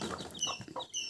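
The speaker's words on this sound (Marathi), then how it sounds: "ह्या कोंबडीने 8 पिल्लं दिलीत" A hen with a brood of newly hatched chicks gives soft, quick clucks close up, several short calls in a brief burst with faint high chick peeps mixed in.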